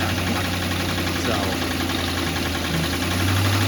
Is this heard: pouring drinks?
no